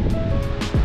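A brief rush of ocean surf washes in with gusting wind buffeting the microphone at a windy wave-sailing spot, loud and close.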